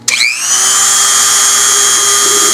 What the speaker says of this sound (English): You drill a little hole in there.